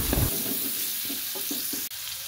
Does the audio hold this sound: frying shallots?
yes